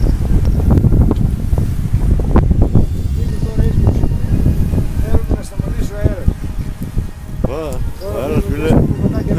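Strong wind buffets the microphone in constant roaring gusts during a night fishing trip on the coast of Chalkidiki, Greece, while people talk loudly over it.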